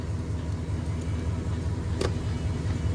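A 1947 Ford Monarch car engine idles steadily, a continuous low rumble close by with a brief sharp click partway through, running cold just after starting following a 12-volt conversion.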